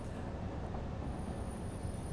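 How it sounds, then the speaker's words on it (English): A train rolls steadily on rails in the game Satisfactory, a continuous close rumble of wheels and carriage noise with a faint high whine, no voices. "I can't believe how cool these trains are"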